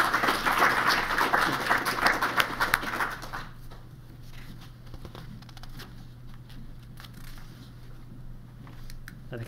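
Lecture-hall audience applause, dense clapping for the first few seconds, then thinning to scattered claps and fading over a steady low hum.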